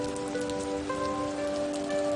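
Rain falls steadily around Hanumangarh, Rajasthan, a continuous close hiss of drops on surfaces, with faint sustained tones humming beneath it.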